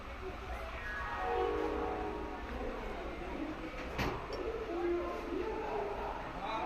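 Inside a train sleeper coach, a steady rumble of the moving train with a drawn-out horn or whistle rising and falling in the background and a brief metallic clank, with faint voices nearby.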